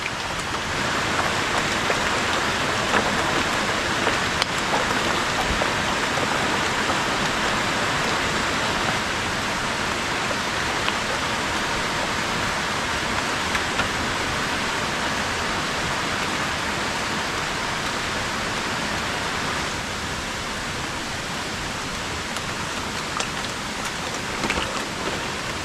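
Heavy rain pours steadily in the Philippine countryside, a dense, loud, unbroken hiss of drops on surfaces that continues throughout with no talking.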